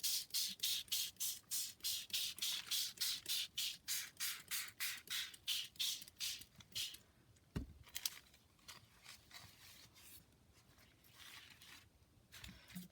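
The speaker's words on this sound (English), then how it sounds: "instead of dipping this, I like to just spray both sides" A spray bottle mists tea dye mixture onto both sides of a piece for flower and leaf pounding, about twenty quick, even, close pumps in steady rhythm, then slower scattered sprays and a sharp knock.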